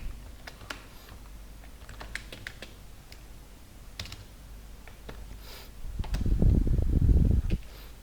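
Rapid clicking keystrokes on a computer keyboard while C# code is typed, close and steady, then a louder rumbling burst of keys and handling noise near the end.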